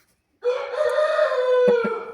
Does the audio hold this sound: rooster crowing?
yes